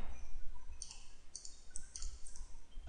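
Several sharp computer mouse clicks in quick pairs and singles across a few seconds, close and crisp over a quiet room hum with no talking.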